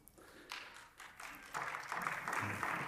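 Applause from members seated in a parliament chamber during a speech on social Europe, starting sparse and quiet, then swelling into steadier, fuller clapping that keeps building toward the end.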